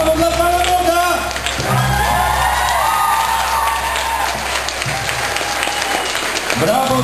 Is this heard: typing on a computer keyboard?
no